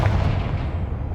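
Confringo blasting spell exploding in the Hogwarts Legacy video game, a loud, dense boom filling the short moment with a heavy rumble and no voice over it.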